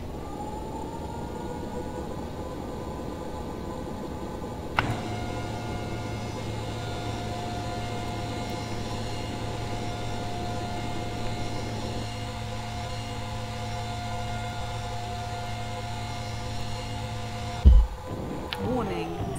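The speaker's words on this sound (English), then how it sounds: "I can hear the atmosphere, so I'm gonna go ahead and engage." Simulated atmospheric braking at Jupiter in the spaceflight game Orbiter 2017: a steady droning hum with sustained tonal bands that swells in at about five seconds and holds evenly before cutting out near the end.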